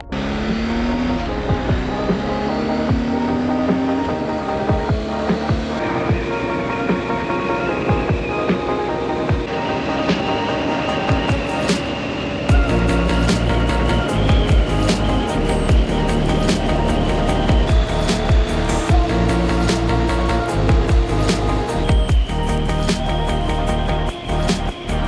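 Adventure motorcycle ridden on a trip in British Columbia, turning off onto a gravel road toward a campsite; loud steady engine drone with shifting pitch and heavy wind rush throughout, the tone rising partway through.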